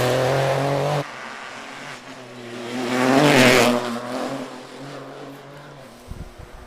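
A Peugeot Rally 4 car accelerates past on a West Cork Rally stage, its engine note rising to a loud close pass and then fading into the distance, after a steady low hum at the start.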